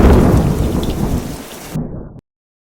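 Heavy rain pours down steadily with deep rumbling thunder underneath, loud and close, before cutting off abruptly.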